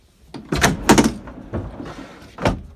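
Large Decked pickup bed storage drawers, fitted in a pickup truck bed, slide and thud shut in several separate nearby bursts of rolling and knocking, with no talking.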